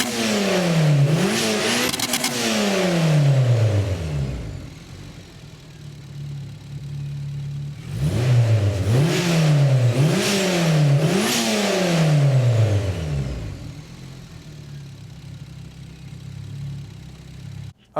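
A turbocharged ninth-generation Honda Civic engine revs hard several times, climbing and dropping in pitch between bursts, with idling in between, loud and close.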